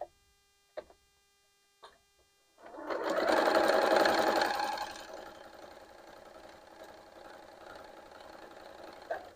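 A sewing machine stitches quilt pieces together in one sustained, whirring run that starts loud and then settles into a softer, steady hum, after a few light clicks and taps.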